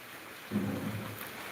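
Heavy rain and rolling thunder over a village in Punjab, a steady wash of downpour with a deep low rumble swelling up about halfway through and lingering.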